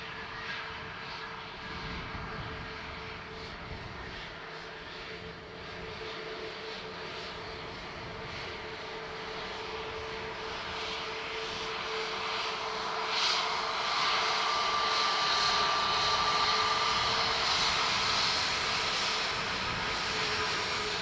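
A fixed-wing airliner engine roars at Dublin Airport, a broad sustained rumble and whine that swells gradually louder from a distance as the aircraft approaches, with no talking.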